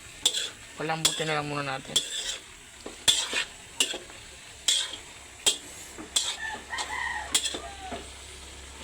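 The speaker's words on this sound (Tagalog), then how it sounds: "Haluin natin bago natin ilagay yung gata." Jackfruit stirred in a pan before coconut milk goes in, with spaced metallic scrapes and clacks of a spoon against the pan over a soft sizzle, and someone talks between strokes while a rooster crows briefly.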